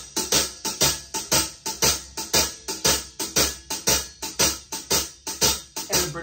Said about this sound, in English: when we're asked to shuffle on the hi-hat, it would sound something like this.